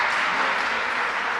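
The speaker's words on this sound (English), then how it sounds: "Ebubekir Sidikara goes off to the applause of his teammates and some people in the crowd." A short burst of steady applause from teammates and some of the crowd for a substituted player leaving a match, continuous clapping throughout.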